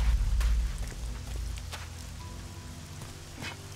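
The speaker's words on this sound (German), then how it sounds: "Es regnet ja immer noch." Steady rain hisses and patters in the Elex video game, a continuous even wash of droplets with a low rumble underneath at the start.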